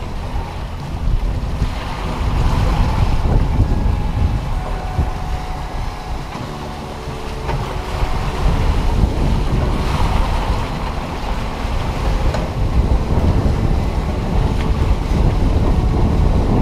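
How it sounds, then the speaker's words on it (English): Rough sea waves surge and wash around a sailboat running downwind, with heavy wind buffeting the microphone in loud, rolling swells throughout. "You get very rough sea coming in here."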